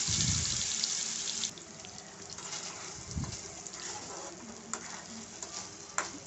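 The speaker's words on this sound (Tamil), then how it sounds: "ஒரு கடாயில் எண்ணெய் ஊற்றி கடுகு போட்டு நம்ம அரைச்சி வச்சுருக்க விழுதையும் சேர்த்து நல்லா வதக்கிக்கலாம்" Ground paste and mustard seeds sautéing in oil in a kadai, a steady close sizzle with occasional soft stirring scrapes and light pops, loudest at the start.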